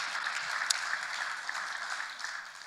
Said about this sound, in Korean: 큰 격려의 박수를 보내줬으면 좋겠다 생각합니다